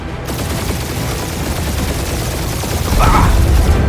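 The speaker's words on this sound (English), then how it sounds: "We're taking fire!" Steady gunfire and blasts in Marvel's Guardians of the Galaxy video game, a continuous loud barrage that swells near the end, with little talk.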